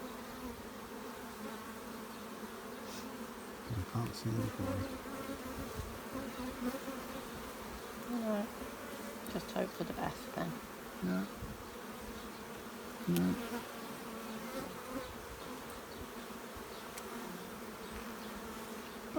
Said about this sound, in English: a happy hive, happy bees